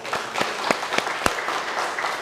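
A small audience of women claps in a brief burst of scattered, separate hand claps, fairly close and with no talking.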